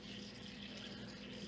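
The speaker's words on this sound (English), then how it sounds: "hear that sizzling?" Steady, continuous sizzling and hissing of Parmesan-topped hasselback potatoes frying in a hot cast iron pan, even and unbroken throughout, moderately close and without any talking.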